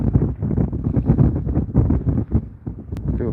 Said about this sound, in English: it's a bit windy. I haven't got a wind thing for the phone